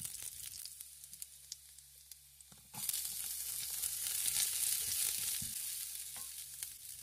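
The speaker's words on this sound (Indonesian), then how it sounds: "Tumis bawang putih dan bawang bombay sampai harum." Garlic and onion sizzle steadily in hot oil during stir-frying, a bright crackling hiss that swells louder partway through and keeps up with small pops and stirring scrapes, with no talking.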